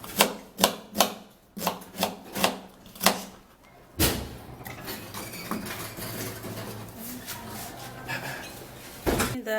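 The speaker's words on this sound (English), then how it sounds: "we're going to dice one full red onion" A knife dices a red onion on a cutting board, giving a run of about eight sharp, evenly spaced chops up close, then a stretch of steady scraping and rustling, with one more hard chop at the end.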